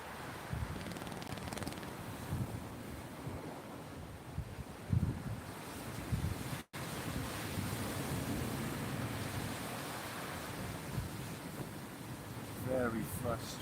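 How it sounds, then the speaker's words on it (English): Big surf waves roll onto a beach during evening sea fishing, a continuous low roar mixed with wind buffeting the microphone, one short dropout midway, and a voice briefly heard. "Got big old surf waves coming in"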